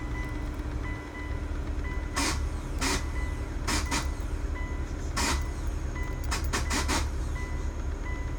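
Faulty ignition switch in a 2008 Hyundai Tucson producing a steady mechanical rumble with repeated sharp clicking bursts at irregular intervals, heard close and alone.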